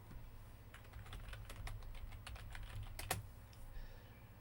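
Rapid clicking of computer keyboard keys and mouse while a list is brought up on screen, a steady run of close, crisp taps with a low hum underneath and one sharper click near the end.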